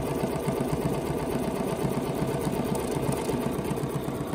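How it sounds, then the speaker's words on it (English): A Bernina sewing machine quilts a table runner with a fast, steady mechanical stitching chatter, close and continuous throughout without speech. "Quilting the table runner, you want it to be pretty quilting."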